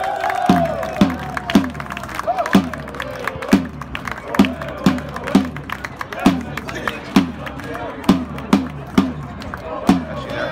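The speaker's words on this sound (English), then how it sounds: "Clapping for the supporter for their support" Football supporters applaud as players come over to thank them after an away match, rhythmic claps spread steadily through the crowd alongside general crowd noise, with a voice talking over it.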